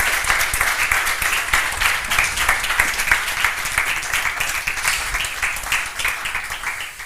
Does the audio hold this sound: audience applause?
yes